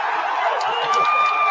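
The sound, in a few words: crowd cheering at the NFL draft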